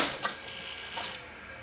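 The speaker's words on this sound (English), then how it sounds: "when the machine is turned on and there's no tape in it, the motor runs constantly" A Sony VP2000 U-Matic video recorder with no tape loaded runs its motor steadily, a soft mechanical whir with two brief clicks or knocks near the start and middle of a short moment.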